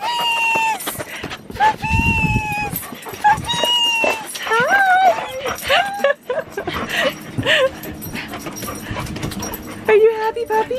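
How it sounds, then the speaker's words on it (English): Excited puppies whine, yip and pant in repeated bursts close by, high squeaky whimpers rising and falling over several seconds, with a person talking over them at a lakeside campsite. "Puppies are excited."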